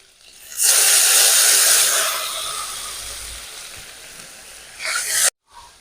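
A splash of water hits a hot pan of frying spices and ginger paste, made while cooking a moong dal with banana flower: a sudden loud sizzling hiss that slowly fades, then a second short burst of sizzle near the end, with no talk.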